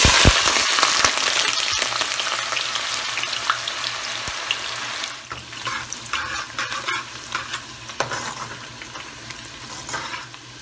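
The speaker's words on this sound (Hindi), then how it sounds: "तेल थोड़ा सा तेज हो जाएगा गरम, तो फिर हम प्याज डालेंगे।" Onions frying in hot oil for biryani, a steady loud sizzle with occasional stirring and utensil scrapes running through the whole stretch, no voices.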